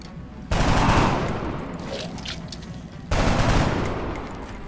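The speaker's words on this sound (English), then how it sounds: "Rapid fire." Rapid-fire gunshots in the turn-based tactics game XCOM Enemy Within come in two loud, dense bursts, the second starting about two and a half seconds after the first, each fading into a rumbling tail.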